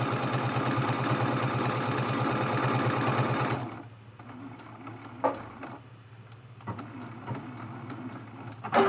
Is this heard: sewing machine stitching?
yes